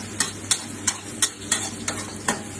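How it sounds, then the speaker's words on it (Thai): Garlic and chili frying in a pan for chicken pad kra pao, a close sizzle broken by regular scraping strokes of a spatula, about three per second. "เจียวกระเทียมให้หอมนะครับกระเทียมกับพริกนะครับ"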